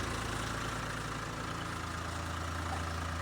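A tractor engine idles close by in a steady, low rumble with an even, unchanging throb throughout and no talk over it.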